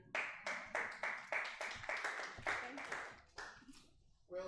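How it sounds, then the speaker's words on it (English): Audience clapping for a winning entrepreneur at an entrepreneurs' event in Ilorin, Kwara State, a burst of distinct hand claps from a small crowd that thins out toward the end. "Please give a hand of applause."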